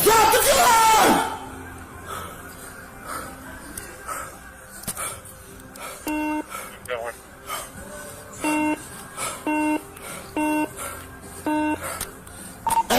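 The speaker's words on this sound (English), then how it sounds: "Do you hear that beep? That's him trying to transmit" A police radio emits a series of short, evenly spaced electronic beeps as someone tries to transmit during a shooting response. Loud yelling opens the clip, and background radio noise runs under the beeps.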